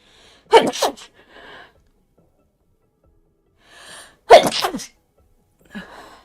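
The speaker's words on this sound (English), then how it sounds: "have to sneeze." A person sneezes twice with sharp, loud bursts, each followed by a fainter trailing breath or sniff, separated by several seconds of near silence.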